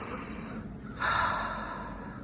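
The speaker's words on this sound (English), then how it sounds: "I want us to take one deep breath" A single deep breath taken in at a live event, a long audible inhale swelling after a brief pause and then easing out, close and alone with no speech.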